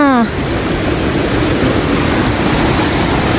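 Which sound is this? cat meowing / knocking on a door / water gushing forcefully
water gushing forcefully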